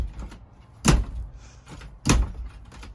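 An RV bathroom door on a 2021 Coachman Pursuit 31BH that no longer latches is pushed shut twice, each attempt a loud hollow thump and rattle about a second apart, with quiet handling noise in between.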